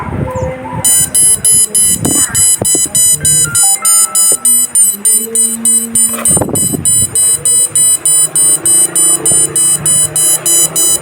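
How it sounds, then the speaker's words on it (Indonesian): An LED fire alarm's buzzer, set off by a smoke sensor, sounds a loud, rapidly pulsing electronic beep that repeats steadily, while a person talks and handles the device underneath. "Bisa dilihat lampu menyala dan buzzer ikut menyala juga."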